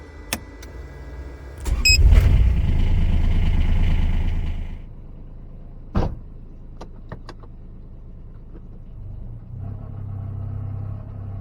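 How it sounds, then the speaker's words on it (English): A mechanically fuel-injected, supercharged Kubota diesel engine in a car cranks and catches with a loud rumbling start, runs for a few seconds, then settles to a quieter idle with occasional clicks before the rumble rises again. "this is a mechanically fuel-injected diesel engine"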